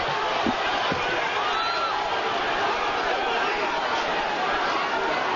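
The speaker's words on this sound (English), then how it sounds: "The crowd here has been whipped into a frenzy." A boxing arena crowd roars continuously at a professional fight, a dense wash of cheering and shouting with a couple of sharp thumps early on.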